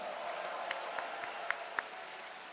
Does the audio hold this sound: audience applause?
yes